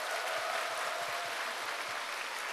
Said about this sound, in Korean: 큰 박수를 자신에게 보내시기 바랍니다